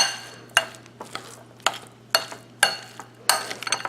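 A spoon clinks and scrapes against a bowl while lime, chopped cilantro and other ingredients are stirred together, sharp taps arriving in an irregular rhythm over a quiet kitchen hum.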